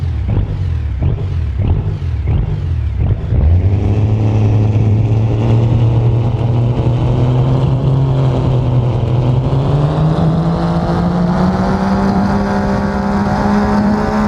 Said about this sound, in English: the Screamer team and their Superstock diesel truck